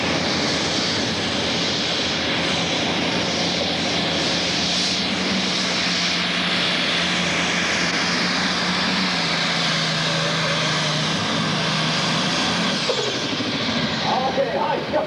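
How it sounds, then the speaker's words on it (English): A Farmall pulling tractor fitted with three turbochargers roars continuously at a county fair tractor pull. The heavy, sustained engine drone and turbo whine stay loud throughout, with an announcer talking over it. "Got about 3 of those turbochargers underneath that hood of that Farmall."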